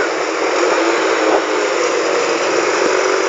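A Dafra 300 motorcycle engine drones steadily and loudly for several seconds, an even, high-pitched buzz with faint thumps, recorded from the rider's position on the road.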